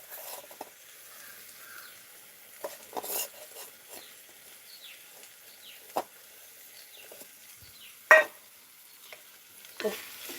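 Upma being stirred in a frying pan, with soft scattered scrapes and taps of a spoon against the pan over a faint sizzle, a few sharper knocks standing out, close and without talk.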